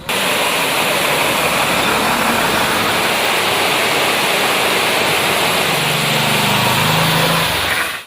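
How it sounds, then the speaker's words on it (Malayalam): Very heavy monsoon rain pours down in Kannur, a dense, loud, unbroken broadband hiss lasting the whole stretch with no voices. "അതിശക്തമായ മഴയാണ് എല്ലായിടങ്ങളിലും ലഭിക്കുന്നത് എന്നതാണ്."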